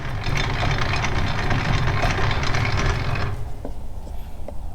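A Ford 9-inch rear end in a Coyote-swapped 1957 Ford Fairlane is spun by hand and grinds with a dense, rapid, close mechanical whir for about three seconds. It then stops abruptly, leaving a few faint clicks.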